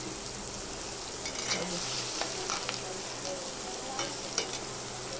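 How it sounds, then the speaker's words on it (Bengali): Chopped onion frying in hot mustard oil, giving a steady close sizzle with a few scraping stirs of a spatula partway through, no voices. "এবার আমি দিয়ে দেবো পেঁয়াজ কুচি যেদিকে আমি পেঁয়াজ কুচিটা দিয়েছি দিয়ে একবার নেড়ে দিলাম"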